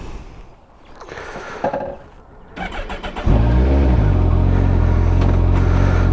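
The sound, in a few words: Kawasaki GTR 1400 motorcycle engine starting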